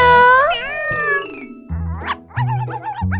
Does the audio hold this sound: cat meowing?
yes